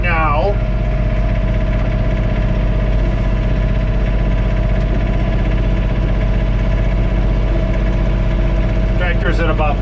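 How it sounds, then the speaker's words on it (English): Steady engine drone of a John Deere 3046R compact tractor at about 1500 RPM, heard from inside the cab during a blizzard with blowing snow; loud, constant low rumble throughout. "Tractor's at about 1500 RPM."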